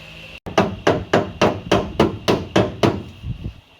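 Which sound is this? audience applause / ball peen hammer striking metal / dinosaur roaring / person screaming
ball peen hammer striking metal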